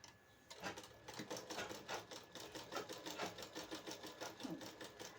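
A sewing machine stitching the katori cup section of a blouse, a fast rhythmic run of needle clatter after a short pause, quiet and close with no one talking.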